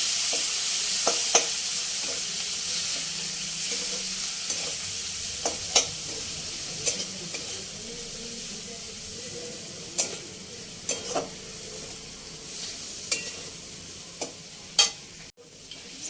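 Masala sizzling in a pan while red chilli sauce and soy sauce are stirred in for restaurant-style Chinese noodles: a continuous frying hiss with intermittent sharp clicks and scrapes of a spoon against the pan, close, with no talking.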